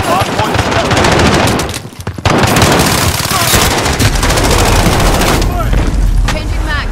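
Rapid automatic gunfire fills a multiplayer shooter match on a hardpoint objective, dense overlapping bursts and booms running almost continuously, loud and close, with a brief lull partway through and game voice callouts mixed in.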